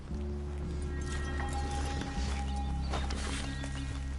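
Several horses clop along on the trail in Red Dead Redemption 2, with steady hoof beats layered over a dense game soundscape of low drones and a faint sustained tone.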